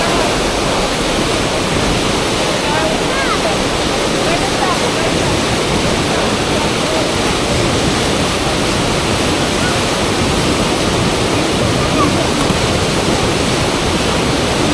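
Ocean surf rolls in as a loud, unbroken wash of breaking waves, heard close and steady throughout.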